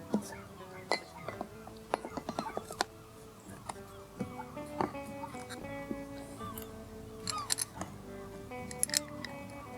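Clear plastic Racor fuel filter bowl being fitted by hand, with a string of small sharp clinks and knocks at irregular intervals, close and fairly quiet.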